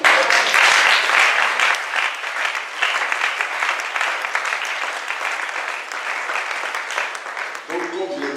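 A church congregation claps for its elders, dense sustained applause that is loud at first, then gradually thins and fades, ending with a voice speaking at the close.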